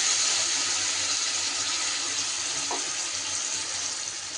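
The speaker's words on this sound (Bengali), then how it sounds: "মিক্সি বাটিটা ধুয়ে আরও একটু জল আমি এখানে অ্যাড করে দিলাম" Water runs steadily into a mixer grinder jar as it is rinsed and poured out, a continuous hissing splash with a faint clink partway through.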